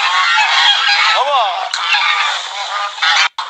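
Poultry on a farm raising free-range chickens squawk and honk loudly and close, a dense overlapping chorus of harsh calls with a brief dip near the end.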